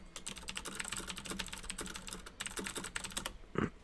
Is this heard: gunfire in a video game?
no